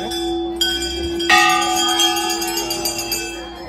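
Large bells ring at Ghanteshwari temple: a couple of strikes land close together, each leaving bright, sustained metallic tones that overlap and slowly fade.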